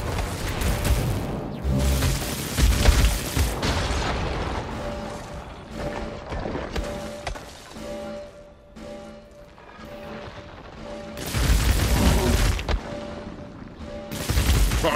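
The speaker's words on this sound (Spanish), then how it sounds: "Fuegos artificiales." Fireworks in the video game Infamous Second Son burst as a dense barrage of booming, crackling explosions with a steady mechanical hum underneath, swelling loudest at the start and again near the end.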